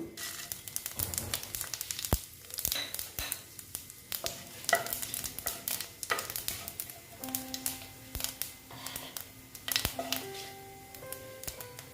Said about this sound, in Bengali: তারপরে দিচ্ছি আমি পাঁচ ফোড়ন